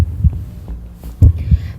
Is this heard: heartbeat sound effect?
yes